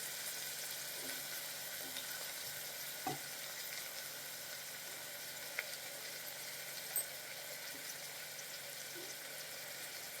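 Brinjal and drumstick pieces frying with curry leaves in a pan for pulusu, giving a steady, even sizzle, broken by a few faint clicks of stirring.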